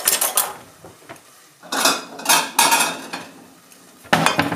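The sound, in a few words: plating up white chilli into a bowl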